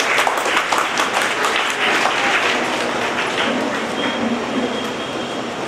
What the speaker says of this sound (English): Give a round of applause, girls.